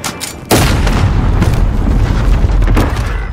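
A grenade explodes in the video game Call of Duty: Modern Warfare, one sudden loud close boom followed by a long rumbling roar that stays heavy to the end.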